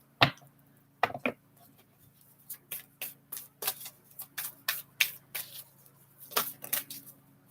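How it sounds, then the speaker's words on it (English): A deck of cards is shuffled by hand in a series of short, crisp riffling bursts and taps, about a dozen separate flurries at an uneven rhythm, close and fairly quiet against a low background hum. "I'm just shuffling, see what falls out and discussing it"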